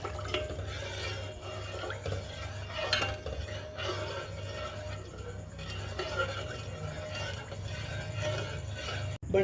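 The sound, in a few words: stirring sugar into milk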